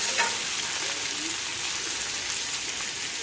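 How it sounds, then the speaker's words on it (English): Onions sautéing in bacon grease for chicken coq au vin, giving a steady, close, even sizzle with no talk. "I'm going to let that saute a little bit"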